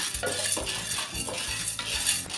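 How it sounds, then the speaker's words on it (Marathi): Chana dal dry-roasting in a pan over medium heat, a rattling shuffle of dry lentils as a spoon scrapes and stirs in quick repeated strokes, close and clear, no speech. "सर्वप्रथम मी एक पॅन घेतलं आहे आणि त्याच्यामध्ये एक वाटी मी चण्याची डाळ घेतली आहे ती आपण भाजून घेऊया"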